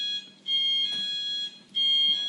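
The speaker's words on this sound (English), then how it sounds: "We have alarms whenever people enter and exit." An electronic entry and exit alarm sounds in a building, a bright multi-tone chime that plays in two long bursts with a brief dip between, clear and fairly loud.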